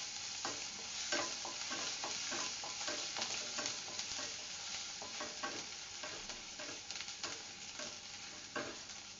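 Ginger paste and chopped green chillies frying with onion in a pan, a steady sizzle broken by repeated scrapes and clinks of a stirring spoon, with no voices.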